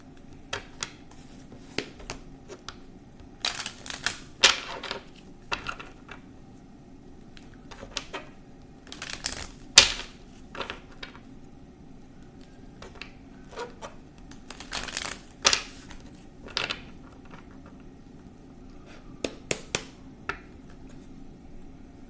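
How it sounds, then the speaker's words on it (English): Tarot cards are shuffled close by in irregular bursts of crisp riffles and soft slaps, separated by quiet pauses. "All right, let's shuffle."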